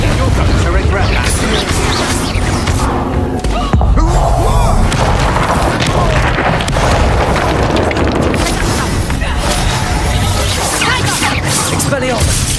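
In Hogwarts Legacy, a Confringo fire spell bursts amid a chaotic duel, with booming blasts and crashing impacts over a dense, loud battle roar while voices shout during the fight.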